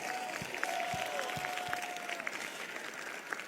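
Congregation clapping at a Christian prayer meeting, a steady wash of many hands under a faint sustained tone, with some sharper individual claps standing out, moderately loud and continuous throughout.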